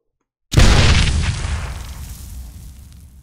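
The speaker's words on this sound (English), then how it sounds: "they get free fireworks" Fireworks going off in an anime episode: one loud, close boom opens after a short silence, and its heavy low rumble slowly fades for several seconds.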